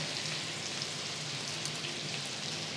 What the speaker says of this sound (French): Elles vont torréfier directement dans notre beurre dans la poêle.